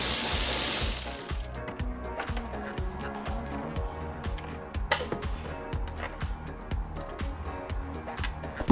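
Ratchet clicking as 10mm bolts are undone from the centre console of a Kia Ceed GT, a close, steady run of rapid mechanical clicks in repeated strokes after a brief louder burst at the start.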